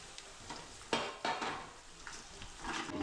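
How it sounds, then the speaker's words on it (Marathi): Green chilies and whole spices fry in a pan with a soft sizzle. A spoon stirs them, making a couple of distinct clanks and scrapes and a few lighter ones. "आता आपण मिरच्या टाकून घेऊ."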